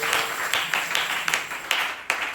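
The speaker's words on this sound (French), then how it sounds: "Et applaudissez le Seigneur Jésus." A church congregation at a Sunday testimony service claps in a rhythmic pulse, roughly two beats per second, with an even, moderately loud wash of hands throughout.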